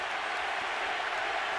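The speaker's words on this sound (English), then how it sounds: "And the crowd picks up the chant." A dense, roaring crowd at a boxing match, Manny Pacquiao vs Antonio Margarito, a continuous wash of cheering and chanting voices with no pauses, loud and close.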